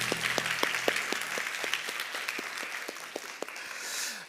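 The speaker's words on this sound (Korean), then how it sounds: "우리 축하의 박수 올려드리겠습니다" A church congregation at a Seattle downtown campus Sunday service claps in celebration of a baptism, a steady, moderately quiet round of applause with distinct individual claps standing out.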